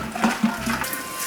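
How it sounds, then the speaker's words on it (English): Running water splashes and swirls as a glass jar is washed with soap and water, a short close burst of gurgling rinse sound. "I'll just give it a good washing with regular soap and water"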